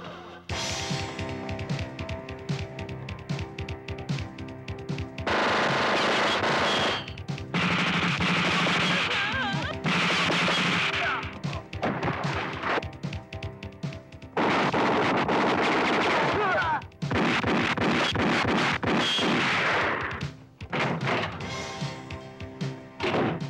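Gunfire rings out in a crime-action shootout between rival gangs, with repeated bursts of loud shots and heavy booming blasts coming in clusters, separated by short lulls.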